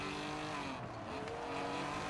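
Race car engine held at full throttle during an online race in Forza Horizon 4, a steady loud roar with layered engine harmonics and no talk over it.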